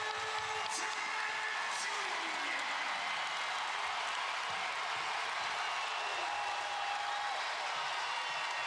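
A packed basketball arena crowd cheers and applauds steadily throughout a Tennessee versus Memphis college game, a dense continuous roar with a commentator talking over it.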